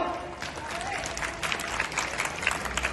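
At an outdoor Ramleela staging by a local arts society, an audience claps loudly and steadily, with a voice talking over the applause.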